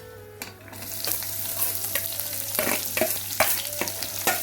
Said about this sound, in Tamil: அந்த வெங்காயத்தை போட்டு வதக்க போகிறோம்